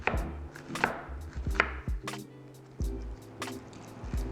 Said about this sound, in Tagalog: So first, we need to chop our onions, carrots, and celery.